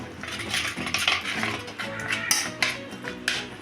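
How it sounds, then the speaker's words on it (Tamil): Soft, repeated mashing and scraping of a utensil against a pot of cooked moong dal, with small clinks, close and moderately quiet. "இந்த பைத்தம்பருப்பையும் நல்லா மசிச்சு வச்சுக்கணும்."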